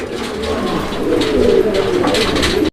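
Lahori pigeons, a pair including a yellow-coloured one, coo in a steady overlapping murmur at close range, with soft throaty calls running continuously and no voices.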